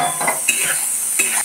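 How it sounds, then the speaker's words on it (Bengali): Spice paste being stirred in a cooking pan, a steady sizzle with scraping strokes of a utensil against the metal and a couple of sharper clinks, close and fairly loud. "পেস্টটা দিয়ে আমি একটু নাড়িয়ে নেব ভালো করে।"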